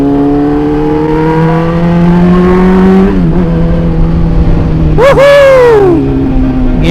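A car accelerates hard on a Jakarta toll road, its engine note climbing steadily through a long gear, dropping at a shift, then revving sharply again, loud and close from inside the cabin.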